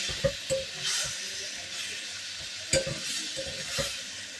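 Arum stalk curry with jackfruit seeds and pointed gourd being stirred and dry-fried in a pan: a soft steady sizzle with scraping spoon strokes recurring every second or so, close and moderately quiet, with no voices.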